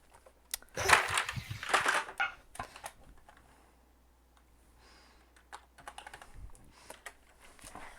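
Computer keyboard typing during a tabletop role-playing session, bursts of close clicking keystrokes, louder at first and then lighter and intermittent.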